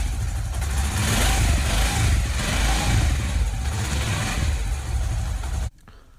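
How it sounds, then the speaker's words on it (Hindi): A Honda CD 70 motorcycle engine runs close by in a steady, loud idle with a throbbing mid-pitched drone, then cuts off abruptly near the end, leaving quiet. "मैं बाइक को स्टार्ट करता हूँ, हेडलाइट को ऑन करता हूँ"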